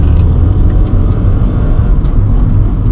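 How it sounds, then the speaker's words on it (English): A car driven on a test drive after a coilover install groans with a loud, constant drivetrain drone, a rough low rumble with faint whirring overtones from a faulty transmission, steady throughout with no talking. "You're going to hear a horrendous noise coming out of the transmission."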